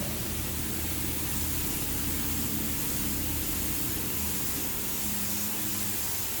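A spray gun dusts a light coat of metalflake base coat onto a motorcycle tank during spot painting, giving a steady, even hiss with a low hum beneath it that runs unbroken through the whole stretch.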